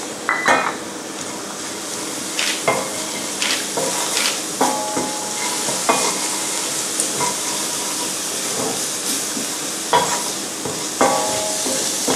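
Fresh basil being stirred into a sizzling shrimp filling in a pan just after the heat is turned off, with repeated scraping strokes of a utensil over a steady frying hiss.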